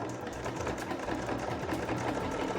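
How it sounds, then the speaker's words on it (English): A domestic sewing machine stitches a buttonhole with a continuous rapid mechanical whir and needle chatter, steady and close, with no talking. "now I'm just going to put my foot down and we'll make a buttonhole."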